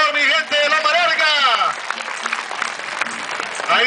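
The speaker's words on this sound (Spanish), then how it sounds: "Y fuerte el aplauso, por favor, mi gente de Loma Larga." A crowd at a village patronal festival applauds loudly for the coronation of a senior queen, dense clapping rising under an excited announcer's voice, which fades while the clapping continues.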